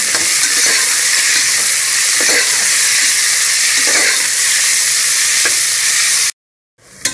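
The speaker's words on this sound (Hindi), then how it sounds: "और 3 से 4 हरी मिर्च, इसको भी इसमें हम डाल देंगे। इसको फ्राई कर लेना है।" Onions and green chillies fry loudly in a pan, a dense continuous sizzle and hiss with a few stirring scrapes, cutting abruptly to silence near the end.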